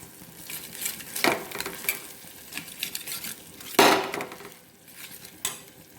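Ridge gourd bharit being stirred and mashed in a pan, a string of uneven scraping and knocking strokes of a spoon against metal over a faint sizzle, one stroke louder than the rest.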